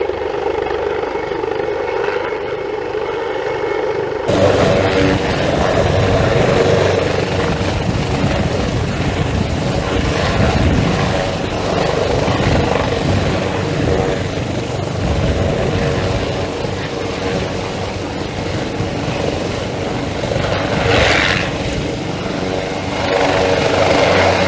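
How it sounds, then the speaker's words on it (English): Rescue helicopter landing with its engine and rotor blades running, a loud, steady, close-up roar and rotor thrum that surges in and stays continuous throughout. "There's a helicopter."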